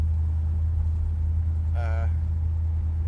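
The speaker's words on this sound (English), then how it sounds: "can you videotape you driving your old car? Well, here you go." An old American car's engine drones steadily from inside the cabin while driving, a loud continuous low rumble with a brief higher tonal warble partway through.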